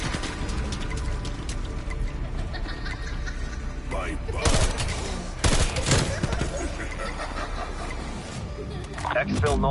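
Tactical rifle fire in a video game, rapid volleys of gunshots that swell into dense bursts around the middle and again near the end, close and loud, with game voices and talk over the shooting.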